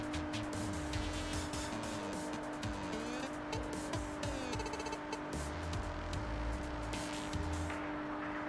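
Race car engines in the video game Forza Motorsport 3, a continuous revving whine that shifts pitch as gears change, with tire noise, steady and loud throughout.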